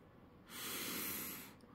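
A close, single sniff at a frosted brown sugar toaster pastry from an MRE ration, a broadband inhaled hiss lasting about one second with no talking.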